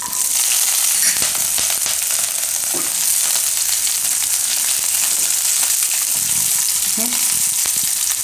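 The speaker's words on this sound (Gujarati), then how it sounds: "તો તેલ આપણું ગરમ થઈ ગયું છે. એમાં આપણે આખા મરી નાખશું અને આદુ અને લસણ અને મરચાં." Whole black pepper, ginger, garlic and chilies sizzle loudly and steadily in hot oil, a close, continuous crackling hiss with occasional sharper pops and faint stirring clatter.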